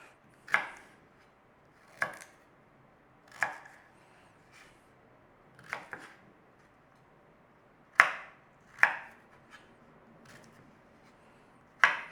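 Stem ginger chopped into small cubes with a knife on a board: about eight crisp, close chops at an uneven pace, separated by quiet pauses.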